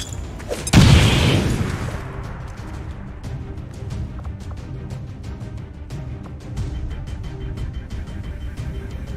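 A frag grenade detonates in a video game with a single loud, close boom and a crash that decays over about a second, followed by low rumbling battle ambience and scattered faint clicks.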